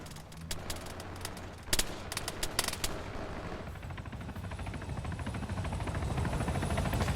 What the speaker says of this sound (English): those strafing airstrikes are so much better when it's like PvP